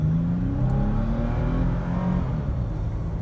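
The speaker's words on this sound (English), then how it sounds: "we're just gonna hit the gas a little." A 2019 Toyota Tacoma TRD Pro pickup's V6 engine revs and accelerates with a steady low rumble, loud and close, no voices.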